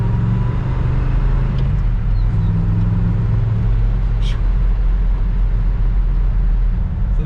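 A 1970 Oldsmobile 442 W30 with a stock 455 engine pulls hard under acceleration, a loud, dense, continuous low roar heard close up from inside the car.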